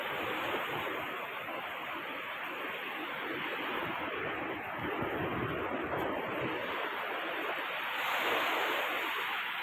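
Sea waves wash steadily onto a rocky beach, a dense continuous roar of surf and churning water with a slight swell near the end, loud and close, with no talking.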